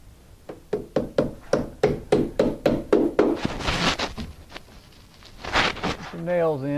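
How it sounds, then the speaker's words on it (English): Nails hammered into window flashing: about a dozen sharp, evenly spaced hammer blows close by, followed by rustling and a brief voice at the end. "I'll finish nailing it, but that's all there is to flashing the window."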